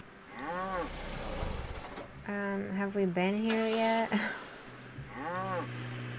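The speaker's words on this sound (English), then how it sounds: "We're still hearing moos." Cows moo in the Nancy Drew Trail of the Twister video game, with several long, drawn-out lowing calls at moderate volume, one swooping moo near the start and another at the end, plus a brief spoken question in between.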